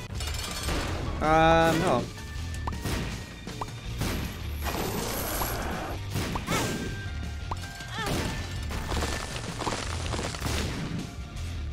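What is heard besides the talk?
explosions in video game The Binding of Isaac: Repentance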